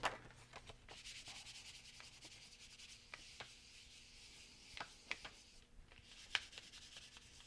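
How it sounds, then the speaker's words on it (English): Polymer clay pendants being burnished by hand before baking: faint, sparse scratchy rubbing strokes with a few brief sharper scrapes, close and quiet. "So 2 pendants ready to go in the oven. Just going to give them a quick burnish."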